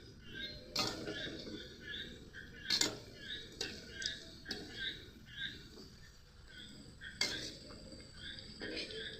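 Pieces of palm lobongo latika sweets are turned over one at a time in a frying pan over a gas flame, giving a series of soft metallic clinks and taps over a low sizzle, with quiet speech.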